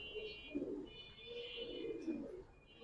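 Giribaz pigeons coo in soft, repeated low rolling phrases, close by, over a steady hum and faint background noise.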